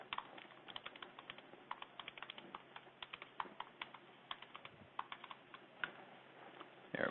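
Someone types a note on a computer keyboard, with quick irregular key clicks in bursts close to the microphone and a louder clack at the end.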